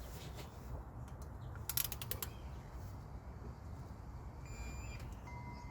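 A torque wrench ratchets as it tightens water pump bolts on a Chevy Tahoe 5.3L, with a quick run of rapid clicks midway and faint mechanical creaks over steady low shop noise.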